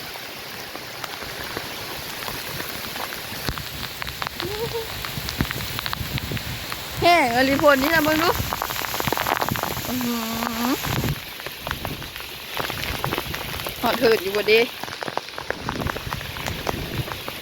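Rain falls steadily with wind outdoors, a constant close hiss of drops on surfaces. Someone talks over it in short bursts while the downpour continues underneath.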